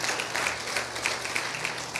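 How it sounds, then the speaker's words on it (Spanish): Applause from a congregation during a Spanish-language church service, a steady moderate wash of clapping lasting the whole moment with no voices over it. "Denle un aplauso al Señor."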